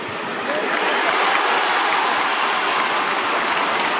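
A large stadium crowd roars steadily after a goal at an AFL match between Essendon and Adelaide, a dense, loud, sustained wash of cheering and applause from start to finish.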